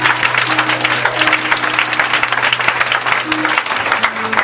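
A church congregation applauds the Lord Jesus, a dense, steady wash of clapping and cheering voices filling the room, with a sustained organ or keyboard tone running underneath.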